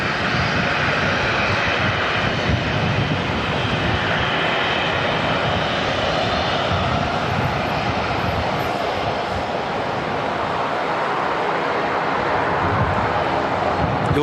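An all-black ATR turboprop at Auckland Airport gives off a steady, loud engine drone that holds evenly from start to finish, with no voices over it.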